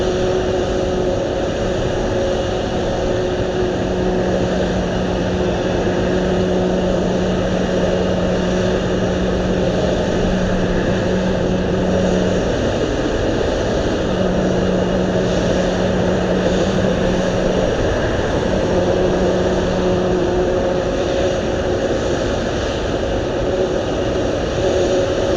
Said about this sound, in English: I was going for China Southern. 5227 flying in from Shanghai